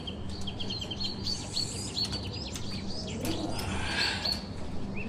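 Breeder pigeons in a loft give soft coos and short chirps over a low steady hum, several calls overlapping at moderate distance.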